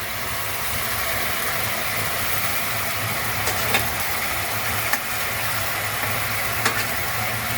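Pabda fish curry simmering and sizzling in a pan as coriander leaves go in, a steady dense crackle with a few faint clicks of utensils.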